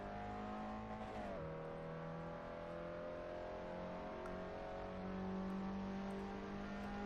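Abarth race car in Assetto Corsa on the Brands Hatch circuit, engine held at a steady drone with a brief pitch drop near the start, then a sustained tone that rises again later; close, continuous, no talk.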